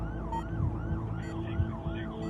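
An ambulance siren wails in a rising and falling cycle that repeats steadily, moderately loud over a low traffic rumble, with a short beeping tone now and then.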